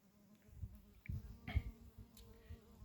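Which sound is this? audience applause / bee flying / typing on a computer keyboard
bee flying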